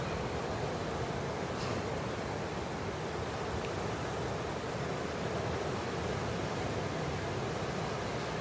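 Ocean surf washes steadily onto the seashore, a constant broad roar mixed with wind buffeting the microphone, with no voices.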